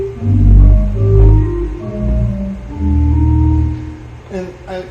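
Organ solo of Bach's Wachet auf Advent chorale, sustained full chords with a deep bass and a slow melody line moving above, loud and resonant, a brief lighter passage near the end, no talking.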